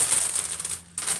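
A bag of kitty treats being opened, a brief burst of close, bright crinkling and tearing plastic with a short pause before it resumes.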